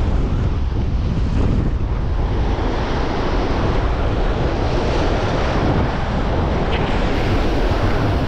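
Strong wind buffets the microphone on a rocky shore during shore jigging, with surf crashing and washing in a constant, loud, dense roar and no clear breaks.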